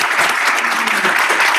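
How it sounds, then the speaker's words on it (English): A room at a school board of education meeting breaks into a brief, steady round of applause, dense and even from start to finish. "Huge round of applause."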